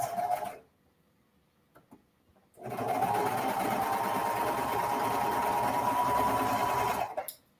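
A sewing machine stitches a wearable blanket in two bursts: a short run at the start, a pause with faint handling, then a steady, close mechanical whir for about five seconds before stopping.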